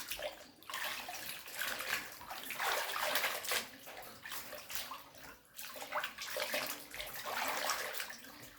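Water splashes and sloshes continuously while pork intestines are washed by hand with salt, a steady close wet churning that swells and dips in waves.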